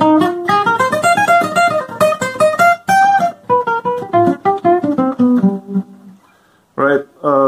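A melodic instrument plays minor pentatonic lines over a II-V-I chord progression, with quick stepwise phrases of clear pitched notes that move up and down, then a pause and a short final chord.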